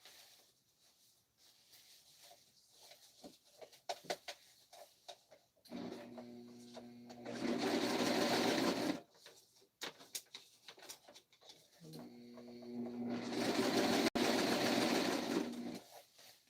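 Late-night serging on an overlock sewing machine: two sustained runs of rapid mechanical humming, one lasting about three seconds and a longer one of about four, separated by quieter handling clicks and fabric rustle.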